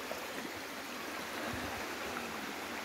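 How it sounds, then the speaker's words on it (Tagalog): River water rushes steadily near a connecting pipe along a rural stream in Pili, Sorsogon, a constant broadband hiss with no talking over it. "Tubo na nagkukonekta sa ilog."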